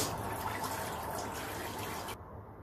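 Water, 1300 grams, poured into a Thermomix bowl, producing a steady, full rushing splash that runs continuously and then cuts off near the end, close and fairly loud with no talking.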